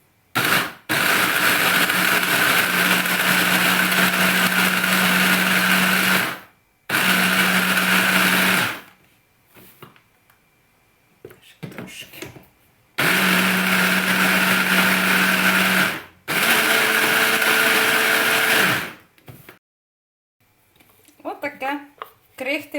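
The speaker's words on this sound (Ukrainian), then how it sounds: "коржики, що ми з вами пекли на крошку, закладаю в блендер і збиваю" A blender whirs loudly in two long bursts, pausing between them, crushing baked cake layers into crumbs for Madeira-style pastries, with quieter handling sounds in the gaps.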